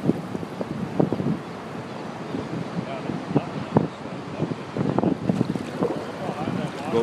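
The flooded Missouri River at 19.1 feet surges under a bridge at Bismarck, North Dakota, heard from a kayak as a steady rushing wash of water with wind buffeting the microphone and scattered splashes and knocks.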